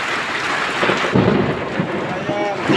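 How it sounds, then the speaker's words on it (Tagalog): Heavy rain pours down steadily while thunder rumbles through the middle, a loud, dense wash of drops with a deep rolling boom and no speech. "Lakas ng ulan dito guys."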